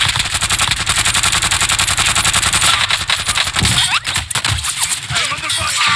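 Rapid automatic gunfire rattles loud and close throughout a tense multiplayer shooter match, with the player pinned down under fire; bursts repeat steadily, then thin into scattered shots while voices talk over the action.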